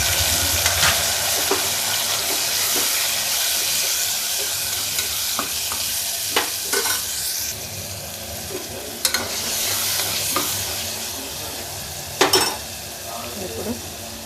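Onion and tomato fry in oil in a pan with a steady, loud sizzle. Occasional sharp scrapes and knocks of a spoon against the pan break through as the mixture is stirred.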